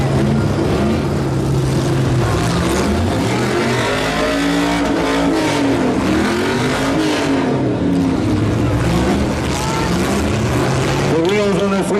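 Heavy engines of short buses in a demolition derby rev and roar continuously, pitch swelling up and down as they churn around the ring seeking traction, loud and close with crowd noise beneath.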